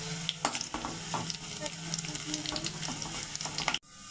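Dried red chilies crackle and sizzle in hot oil for a papaya pickle, a steady close frying hiss with brief stirring clinks throughout, ending in a sudden cut to near silence.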